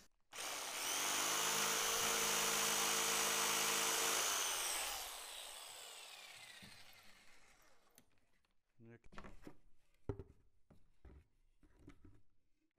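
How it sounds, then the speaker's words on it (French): A jigsaw cuts through a plastic bucket at close range, a loud continuous buzzing whine that runs for about four seconds, then trails off, followed by scattered clunks and handling knocks. "sciez à l'aide de votre scie sauteuse"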